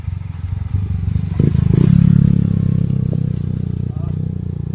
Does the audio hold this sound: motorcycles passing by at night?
yes